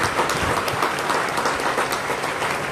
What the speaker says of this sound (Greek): δώστε ένα θερμό χειροκρότημα